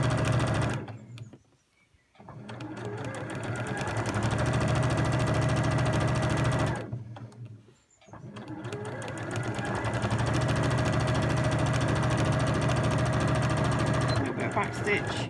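A sewing machine stitches a seam in cotton or polycotton fabric, whirring loudly in two long runs broken by short pauses, with a voice talking over it.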